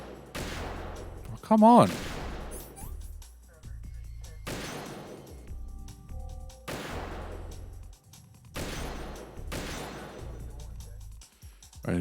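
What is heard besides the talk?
gunfire from the video game Metal Gear Solid 2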